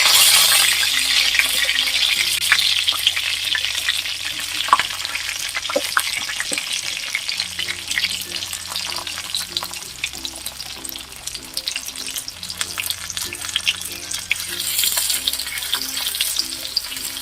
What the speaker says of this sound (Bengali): পেঁয়াজও আমি হালকাভাবে বেজে নেবো